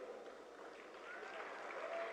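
An audience at the Viksit Bharat Young Leaders Dialogue 2025 with PM Modi keeps up faint, sustained applause, heard from a distance as an even wash of clapping.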